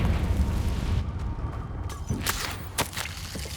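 A Confringo blasting spell goes off in Hogwarts Legacy amid a dense, rumbling game soundscape, with sharp bright bursts and low booms striking twice in the final seconds.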